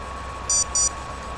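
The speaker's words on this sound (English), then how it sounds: "my watch is beeping at me" Two short high-pitched electronic beeps in quick succession from a wristwatch, over a faint steady hum.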